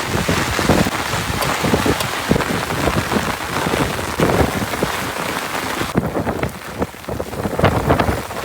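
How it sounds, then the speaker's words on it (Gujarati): Heavy rain pours down steadily on an open farm where a tractor is nearby, a dense, close hiss of drops drumming on surfaces with gusts of wind buffeting the microphone, continuous throughout without any voices. "આમ વરસાદ જોવો તમે."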